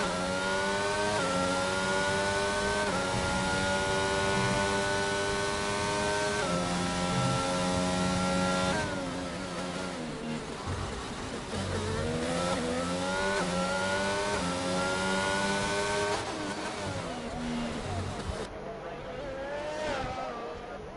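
A Formula 1 car in the F1 22 video game screams through Azerbaijan's Baku castle section. The engine note climbs and drops steadily with gear changes, loud and constant for about twenty seconds, and no voices are heard over it.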